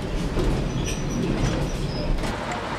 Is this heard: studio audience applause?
no